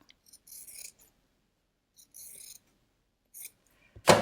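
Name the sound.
trimming bookbinding thread ends with scissors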